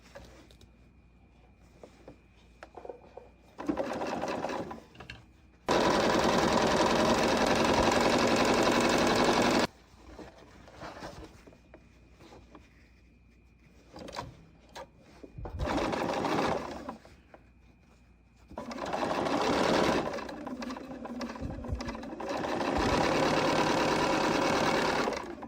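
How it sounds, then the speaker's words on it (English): A sewing machine chain-pieces quilt half-square triangles, running in loud, close bursts of rapid needle clatter separated by quieter pauses with faint handling noise. "Chain piece all of the navy blue half square triangles to the striped ones, both the red and the white tip."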